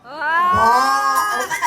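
A voice imitates a cow's moo, a single sustained, drawn-out lowing call lasting over a second, close and loud.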